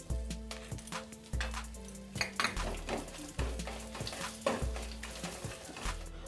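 Spice paste of ginger, turmeric and chili powder frying in a pan for chickpea dal, a soft continuous sizzle broken by repeated sharp scrapes and clinks of a spoon against the metal.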